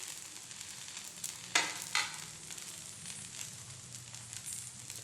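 Aval and wheat flour adai fries in oil on a pan, a quiet, even sizzle with a couple of sharper crackling bursts partway through and no voices.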